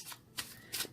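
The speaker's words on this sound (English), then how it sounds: "One more shuffle, they request." Tarot cards being shuffled, three short papery riffle bursts in quick succession, close and quiet, with no voice.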